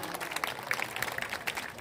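Faint, distant clapping from an audience at a Bhagwat Saptah religious gathering, a scattered patter lasting under two seconds.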